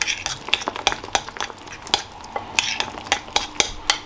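Food stirred in a pan, heard as a steady run of close scraping strokes and sharp clinks of a utensil against the pan, repeating rhythmically over a soft sizzle, with no talking.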